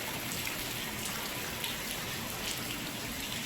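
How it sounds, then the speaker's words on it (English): Steady rain falls in San Antonio during a storm, a soft continuous patter of drops on surfaces with faint scattered splashes and no voices. "It's kind of fun playing in the rain"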